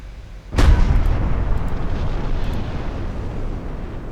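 A battleship's big naval gun fires in Ultimate Admiral Dreadnoughts, one sudden loud boom followed by a long rumbling roar that slowly fades, with no voices.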